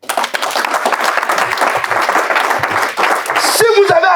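Church congregation applauding loudly, dense continuous clapping from a crowd with voices mixed in, swelling toward the end where a voice rises over it.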